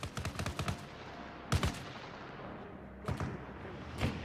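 Gunfire in the Arma Reforger video game, aimed at a helicopter: a rapid automatic burst opens, followed by separate short bursts and single sharp shots spaced a second or so apart, fairly distant over quiet background noise.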